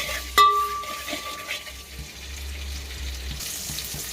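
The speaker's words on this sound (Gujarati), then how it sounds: "તેલ ગરમ થઈ ગયું છે, એમાં આપણે નાખીશું આદુ લસણ મરચાની પેસ્ટ અને સાતરી લઈશું" Ginger, garlic and chili paste goes into hot oil in a pan for an Indian bean curry, giving a quiet, low sizzle with a sharp utensil clink near the start and a few soft stirring taps.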